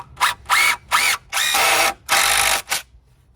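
A power drill drives screws into a 2x6 deck board on a ground-level deck in about six close, loud whirring bursts of varying length, separated by short pauses, with no talking.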